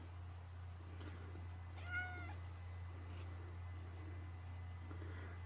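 Pet cat named Catface gives a single short, clear meow, heard once at close range over a steady low electrical hum in a quiet room.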